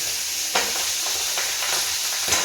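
Fish and large garden-grown potatoes frying in a pan, with a steady close sizzle and several scraping stirs at irregular intervals, with no voices.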